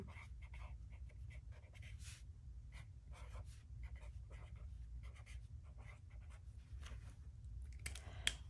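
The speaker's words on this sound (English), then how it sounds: "and then I go on to write it." A pen scratching across a bullet journal page in close, steady strokes and short bursts while the Serenity Prayer is written out by hand, with a soft low rumble underneath.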